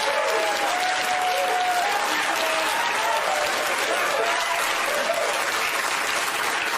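Studio audience applause with hooting and hollering, dense and steady throughout, loud and close, with faint voices mixed into the crowd noise.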